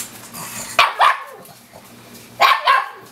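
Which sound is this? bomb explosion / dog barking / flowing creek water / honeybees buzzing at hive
dog barking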